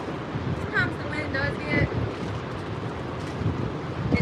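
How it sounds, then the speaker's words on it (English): Strong outdoor wind buffets the microphone on a sunny Florida day, a steady low rumble with gusts swelling throughout under occasional faint speech. "Windy today. Super windy."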